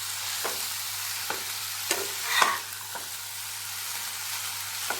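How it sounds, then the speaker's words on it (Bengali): Chicken spring roll filling, seasoned with sugar and vinegar, is stir-fried in a pan over high flame: a steady sizzle runs throughout, broken by a handful of sharp spatula scrapes and knocks at irregular intervals. "এবার এগুলোকে একটু ভালো মতন আবার আমি হাই ফ্লেমে ভেজে নেব"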